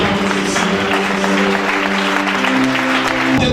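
A church congregation at an Easter convention applauds and acclaims continuously, dense clapping mixed with raised voices and an underlying tonal hum, sustained and loud throughout.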